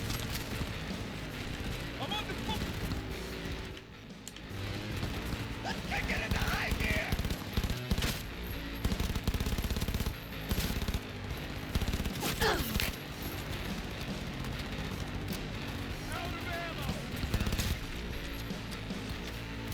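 Gunfire from combat in Cyberpunk 2077, rapid volleys of shots crackling under a dense mix of game sound and a speaking voice, sustained throughout.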